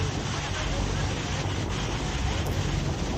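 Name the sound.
Iguazu waterfall roaring near a boat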